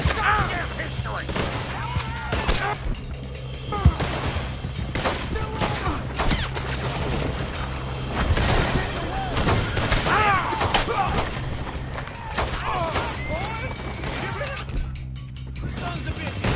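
Shootout gunfire in the video game Red Dead Redemption 2, a dense, continuous barrage of overlapping shots, crashes and thuds running throughout, with shouting voices mixed in.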